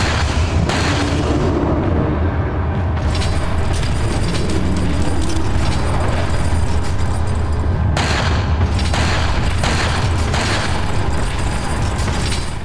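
Gunshots in Resident Evil 4 Wii Edition: loud, repeated booming blasts and heavy thuds fill the whole stretch, packed closely together with almost no quiet gaps.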